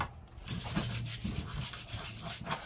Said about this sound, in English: When you scrub the fish with that table salt